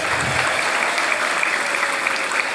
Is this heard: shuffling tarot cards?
no